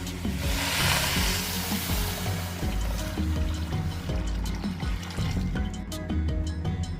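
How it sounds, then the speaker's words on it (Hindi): Water pours steadily into a metal pot for cooking chickpeas, a continuous splashing fill with faint clinks, lasting several seconds without any voices. "साथ ही 8 कप के करीब पानी शामिल कर देंगे।"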